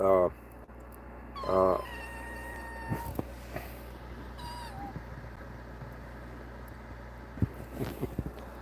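A pet cat meows twice in quick succession near the start, followed by another short meow a moment later, with faint room noise and a few small knocks in between.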